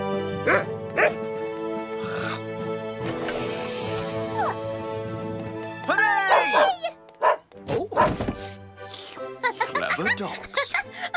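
Cartoon dog from Fireman Sam barking in short yaps between bursts of chuckling and lively character voices, with a busy animated soundtrack around it.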